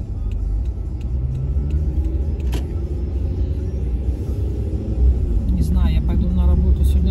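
A car creeps along a snowy road in Washington during heavy snowfall, its engine and tyre rumble a steady, close low drone throughout with no speech.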